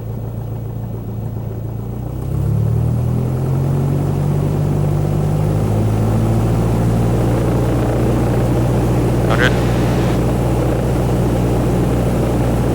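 A Cessna light aircraft's piston engine throttles up for takeoff, rising from idle to a loud, steady full-power drone that holds throughout with no talk.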